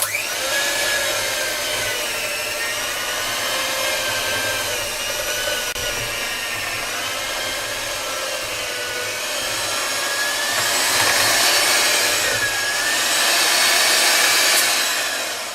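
Electric mixer motor kneading sourdough bread dough with added salt, a steady whirring drone that holds for the whole stretch and swells slightly near the end, with no talking.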